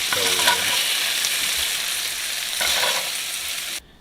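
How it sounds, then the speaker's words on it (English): Meat sizzles and crackles steadily in a hot pan over medium-high heat while being cooked for lettuce wraps, with a broad continuous fry and a louder burst of stirring near the end before it cuts off. "We'll cook that up for about 2 minutes on medium-high heat. Just kind of crisp that up, get that flavor into there."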